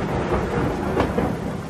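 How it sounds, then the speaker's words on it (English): Thunder rumbling low and continuous through a rainstorm over a valley, with steady rain hiss and a slight swell midway, no voices. "I remember hearing the thunder define the far reaches of the valley as the storm passed over me"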